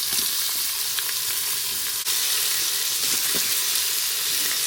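Onions frying in a little oil for prawn biryani sizzle steadily and loudly up close, with light scraping stirs and a sharp click partway through.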